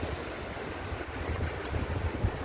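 Wind on a beach at Mahboula, Kuwait, blows as a constant low rumble of gusts buffeting the microphone. Faint surf is possible beneath it, and no one speaks.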